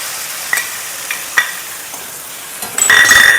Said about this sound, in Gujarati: હવે આપણે લીલા મરચાંને ક્રશ કરેલા છે એ નાખી દઈશું, સાથે લીલું લસણ પણ નાખી દઈશું